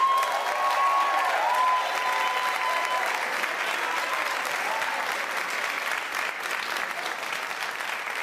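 A commencement ceremony audience applauds mothers and mother figures with sustained, dense clapping that holds steady for about eight seconds, loud and close, with no speech over it.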